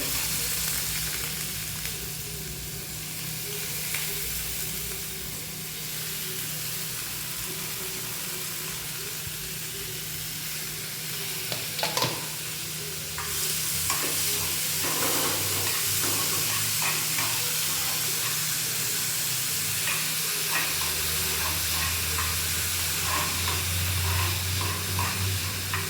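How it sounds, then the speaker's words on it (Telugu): Onion shallow-fried lightly in a pan with coriander, salt, chili powder, garam masala and tomato ketchup, a steady close sizzle running throughout with occasional stirring scrapes, the frying growing louder and hissier toward the end. "లైట్గా షాలో ఫ్రై."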